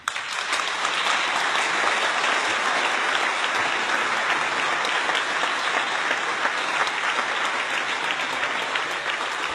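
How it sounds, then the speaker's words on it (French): Steady, dense applause from an audience at the opening of the second UN Environment Assembly session, sustained evenly throughout without voices breaking through. "je pense que Achim mérite tous nos applaudissements."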